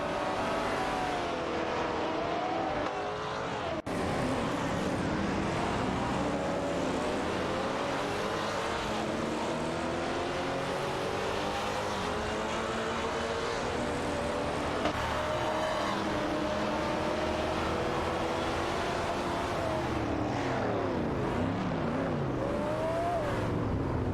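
Racing video game with a Maserati Bora and an AMC Javelin battling for position through corners, engines droning and revving steadily and loud throughout, with pitch sweeping up and down as they accelerate and brake.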